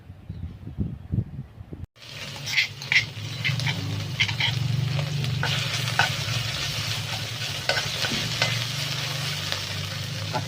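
Eel pieces dropped into hot oil, a loud steady sizzle bursting up after a moment of quieter kitchen noise, with crackling spatter and occasional stirring continuing close by.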